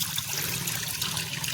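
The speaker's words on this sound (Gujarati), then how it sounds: "ચાલુ મોટર હોય ને આવી રીતે ચાલુ પાણી કપડાં ધોવાની મજા આવે" Water from a running motor pump pours steadily for clothes washing outdoors, a brief close trickling and splashing flow with no voices.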